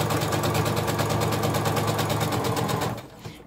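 A sewing machine stitches a straight seam down a chalk line on a dog bandana, whirring steadily and close for about three seconds before it stops abruptly.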